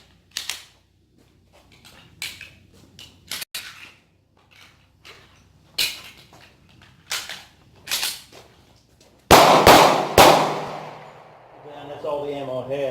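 Low-light shooting drills fire through bad, malfunctioning ammunition, producing sharp, loud gunshots spaced irregularly with pauses, then a dense cluster of close shots, while people talk and shout in between.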